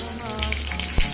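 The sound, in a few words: tempering spices spluttering in hot oil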